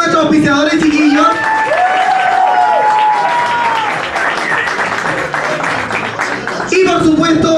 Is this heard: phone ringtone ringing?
no